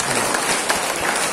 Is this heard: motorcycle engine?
no